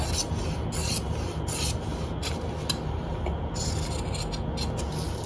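Scissors cut through kurta fabric in a steady series of short rasping snips, close and fairly quiet, with no talking.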